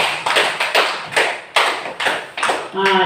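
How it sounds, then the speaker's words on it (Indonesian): Scattered clapping from a classroom of students for a classmate, about seven separate claps in a loose rhythm, fairly close, with a voice briefly at the end. "Silakan diberikan tepuk tangan untuk temannya"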